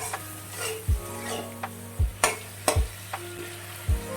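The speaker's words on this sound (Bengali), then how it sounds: "চিংড়ি মাছ যত হালকা করে ভাজবেন ততই চিংড়ি মাছের স্বাদটা ঠিক থাকবে" Shrimp fry lightly in a pan, a soft steady sizzle broken by several sharp scrapes and clacks of a spatula stirring against the metal, with no talking.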